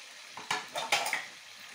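Liquid splashes into a hot pan of Baghair fish masala, several short bursts of hissing sizzle with a clatter of utensils, close and fairly soft, no talk.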